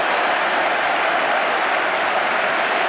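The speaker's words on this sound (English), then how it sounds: "Oh, the crowd love that." A football crowd at a match between Tottenham Frostspurs and Tarbuck's Sky Blues cheers and applauds a chance on goal, a steady, broad roar of clapping and shouting that holds evenly throughout.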